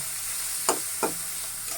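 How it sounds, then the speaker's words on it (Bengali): Chopped onion and green chili frying in a pan for a sweet pumpkin dish, a soft steady sizzle broken by two quick scraping strokes of a spatula. "এখন আমি দিয়ে দিব পেঁয়াজ কুচি ও কাঁচামরিচ কুচি আমি একটু লাল করে নেব"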